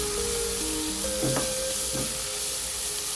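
Tapioca being stirred with chilli powder in a hot pan gives a steady close sizzle and hiss, with a couple of brief scraping stirs near the middle and no talking.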